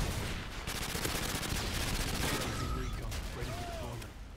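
Submachine gun fire in Modern Warfare 2 (2009), a dense rapid burst of close shots that keeps going, with a few brief game tones over it.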